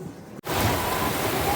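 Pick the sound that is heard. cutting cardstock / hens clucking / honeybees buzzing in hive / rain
rain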